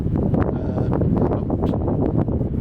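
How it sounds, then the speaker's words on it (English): Steady, roaring wind buffets the microphone for the whole stretch, a dense low rumble with gusty surges and no pauses. "It's just too windy"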